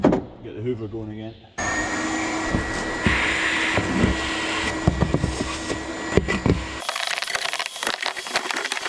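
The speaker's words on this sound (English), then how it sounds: "Get the hoover going again." A hoover used on a Land Rover fuel pump job starts up after a short talking voice and runs with a loud, steady whine, with clatter and knocks of debris being sucked up.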